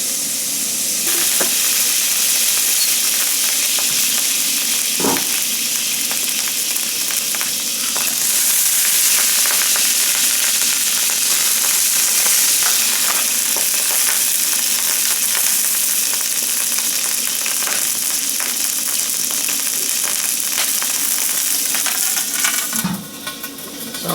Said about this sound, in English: Sounds like the oil is getting down to the pan itself rather than floating on top of water.